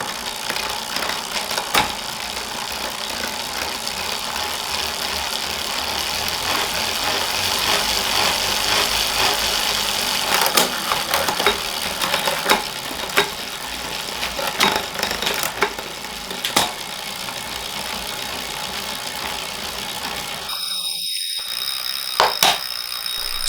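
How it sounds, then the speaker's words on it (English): Bike drive chain turning on a Wahoo Kickr Core smart trainer, a steady close whirring hum with faint ticks, running continuously and fairly quiet with no talk. "You can hear really the only sounds are the drive chain"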